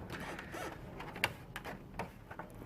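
The plastic casing of an Amiga 500 computer is being lifted off after its screws were removed, giving faint, scattered clicks and creaks with one sharper snap, all quiet and close, with no voices.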